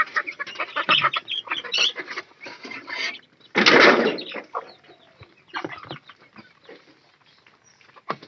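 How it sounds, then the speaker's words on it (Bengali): Chickens squabble inside a crowded coop, loud bursts of squawking and clucking with a sharp flurry of flapping and screeching in the middle, then scattered calls. "ভিতরে কিন্তু অনেক মারামারি করতেছে মুরগিটা।"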